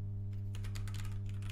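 Computer keys are typed in a quick, light run of soft taps over a constant low electrical hum, a node name being entered while setting up Elasticsearch on an Ubuntu server.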